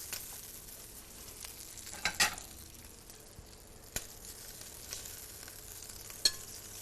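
Pieces of calamari sizzling in a hot pan in a restaurant kitchen, a steady soft fry with occasional scrapes and clinks of stirring, fairly quiet and close.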